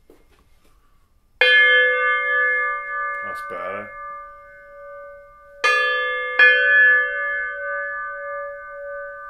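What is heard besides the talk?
singing bowl struck and ringing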